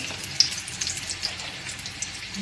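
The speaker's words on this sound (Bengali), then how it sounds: "আমি তেলের মধ্যে সব এক এক করে মশলাটা দিয়ে দেবো" Whole spices such as bay leaf, cardamom, cinnamon and peppercorns sizzling in hot oil for a vegetarian potato biryani, a steady faint crackle with small pops, no talking.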